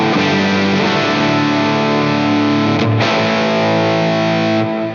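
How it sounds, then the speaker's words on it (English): Electric guitar through a Wampler Catacombs pedal set to plate reverb, sustained distorted chords ringing with a bright, lush wash, loud and steady before fading near the end. "I like the plate reverb on guitar."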